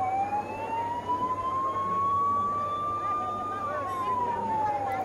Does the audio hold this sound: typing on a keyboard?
no